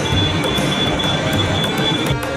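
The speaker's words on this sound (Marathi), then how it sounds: "ही ट्रेन येणार आहे थोड्या वेळातच" A train rumbles steadily at a railway station in Maharashtra, with a thin, sustained metallic wheel squeal riding over the dense, continuous noise and no voices.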